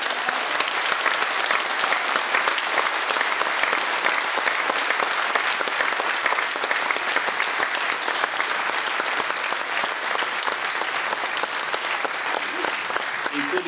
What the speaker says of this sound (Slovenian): ta aplavz kaže na to našo željo